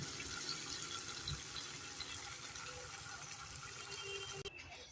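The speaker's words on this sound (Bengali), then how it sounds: "এবার আমি দিয়ে দেবো উষ্ণ উষ্ণ গরম জল" Warm water poured into spices cooked down in oil for an eggplant dish, a steady close gushing, bubbling pour that runs continuously and then cuts off abruptly near the end.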